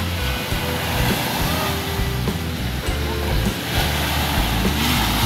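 Choppy sea waves wash steadily on Alona Beach, a broad, constant surf roar with wind buffeting the microphone throughout, fairly loud and close.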